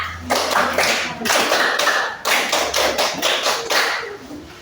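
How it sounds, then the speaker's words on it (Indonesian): A classroom of students performs a Scout-style rhythmic group clap, a tepuk pramuka, sharp unison claps in a patterned beat lasting several seconds, loud and close. "Mari kita sambut dengan 1 kali tepuk pramuka."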